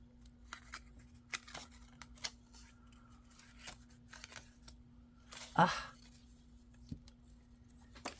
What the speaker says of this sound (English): Use these scissors to poke this through here.